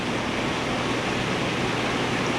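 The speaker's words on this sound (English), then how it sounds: "there's a little waterfall over there" Small waterfall feature on a hot tub, pouring fresh filtered hot water from the heater line, producing a steady, loud, broadband rush of falling water that holds evenly throughout with no voices.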